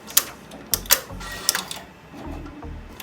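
A Meistergram GEM XL-1500 embroidery machine performs a full thread trim, clacking and whirring in several sharp mechanical strokes followed by lower motor hums, close and alone.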